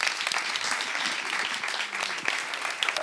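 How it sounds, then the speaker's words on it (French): Audience applause at a live stage event, dense and continuous clapping from a crowd that holds at an even, moderately loud level throughout, with no talk standing out. "on peut l'applaudir encore"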